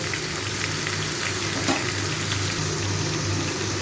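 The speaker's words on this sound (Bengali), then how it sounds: "এই সবজিগুলোকে আমি একটু ভালো করে 5-6 মিনিট ধরে ভেজে নেব।" Mixed vegetables frying with tomato and green chilli, a steady, dense crackling sizzle with light stirring noises, moderately loud and continuous without talk.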